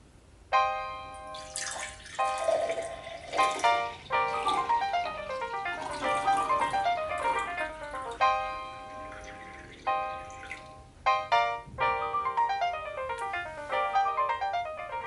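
Juice pours into glasses in several separate bursts, each rising in pitch as the glass fills, with gurgling, bubbly tones and short pauses between pours.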